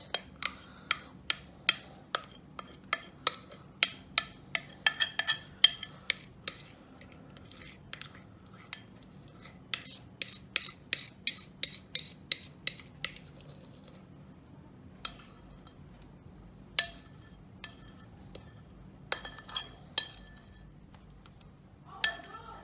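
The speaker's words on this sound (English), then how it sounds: "So we're just going to scrape that right in." Spatula scraping peanut butter mousse pie filling into an 8-inch round pie pan, a steady run of light clinks and taps against the pan under a low background hum.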